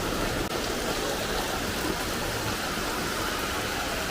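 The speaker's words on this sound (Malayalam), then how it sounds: "മഴ കൂടിക്കൂടി വരുന്നുണ്ട്." Heavy steady rain pours down outdoors, a dense continuous hiss of drops drumming on surfaces and running water that holds loud and unbroken throughout, with no talk.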